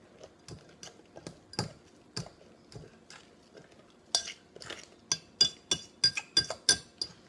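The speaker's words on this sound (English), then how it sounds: "We're just going to mix until this is well combined." A spoon stirs eggs, crumbled feta, tomatoes and cooked quinoa together in a bowl, giving scattered soft taps and then a quicker run of clinks against the sides, close and quiet with no voices.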